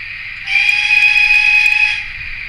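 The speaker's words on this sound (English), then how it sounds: "We've got a long whistle" A model Castle Class steam locomotive's sound unit gives one long, steady whistle blast of about a second and a half, loud and close, rising sharply and cutting off cleanly over a faint idle hum.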